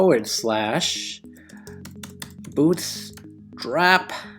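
Clicky computer keyboard typing patters along while someone talks over it, quick key presses scattered between his phrases.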